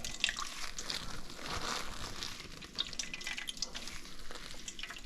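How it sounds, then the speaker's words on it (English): Liquid drips and trickles as grated eggplant is squeezed in a muslin bag, a close, continuous wet patter with faint squelching and no talk. "the muslin bag, and we'll just squeeze the liquid."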